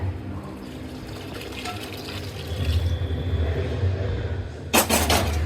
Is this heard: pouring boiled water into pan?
yes